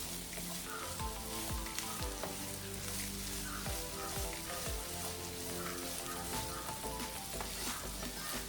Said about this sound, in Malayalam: അപ്പം നമ്മൾ ഉള്ളി നല്ലോണം ഇങ്ങനെ വഴണ്ടിട്ടുണ്ട്